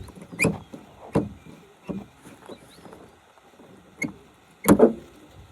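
Car or scooter being unlocked and opened at a water park outing: a series of short sharp clicks and clunks, spaced irregularly, one louder double thump near the end, fairly close with light background noise and no speech.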